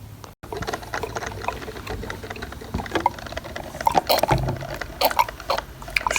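A Walmart drip coffee maker, just fixed after not dripping, lets water drip and trickle into its carafe, with irregular patters and small splashes over a steady low hum, close by and alone.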